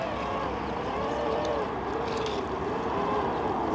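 A powerful toy tractor pulls a trailer under gentle throttle, its electric motor giving a loud, continuous whine that wavers slightly in pitch over a steady rumbling drive.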